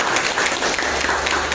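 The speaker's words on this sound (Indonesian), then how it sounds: "Tepuk tangan dulu untuk 3 teman kita." A short burst of enthusiastic clapping from a class of students, dense and even throughout.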